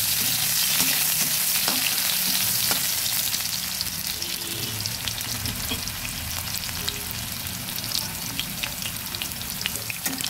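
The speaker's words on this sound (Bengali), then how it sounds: "আলুটাকে হালকা ভেজে নেব।" Cut potato pieces frying lightly in hot oil in a pan, a continuous close, busy sizzle with crackling pops and occasional stirring scrapes.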